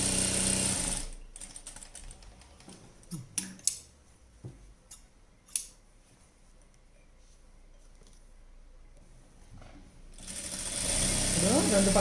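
A sewing machine double-stitches the seams of a night dress in bursts between about 1 and 10 seconds, separated by short pauses. It sits at moderate distance, fairly quiet, and a brief voice is heard near the edges.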